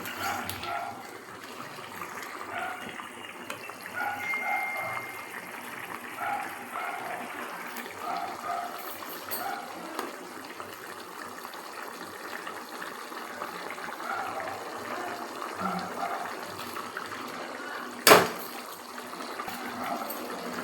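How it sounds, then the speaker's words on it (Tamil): A pot of cauliflower and mutton gravy with green chillies bubbles and simmers in a soft, steady burble. A single sharp clink sounds near the end. "கொஞ்சம் இன்னும் நல்லா கொஞ்சம் கொதித்து வரட்டும்."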